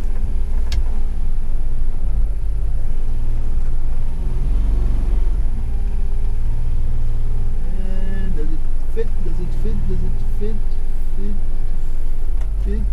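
Steady loud rumble from the 550cc engine of a 1990 Suzuki Carry four-wheel-drive mini truck with a five-speed gearbox, heard from inside during a test drive, with revs rising and falling through gear changes and voices talking over the drone.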